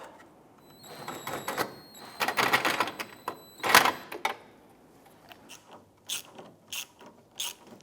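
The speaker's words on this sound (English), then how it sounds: "Now we'll go ahead and get the nuts installed." A hand ratchet tightens nuts on the front bumper cover of a 2005-2007 Ford Five Hundred, giving short, fairly quiet bursts of rapid clicking separated by pauses, with no voices.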